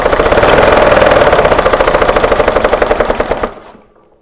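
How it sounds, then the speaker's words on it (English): A long-dormant 1968 Fiat 500 engine runs with a rapid, loud, uneven popping chug, its regular firing pulses slowing and fading over a few seconds until it stalls into quiet. "can you get a Fiat 500 engine that's been sat since the mid to late 70s, early 80s to start?"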